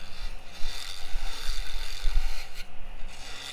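Steady scraping and rasping of a 3/8 paring tool and spindle gouge cutting scrap wood on a lathe to shape a jack stand, a close, continuous rough rubbing with uneven low thumps.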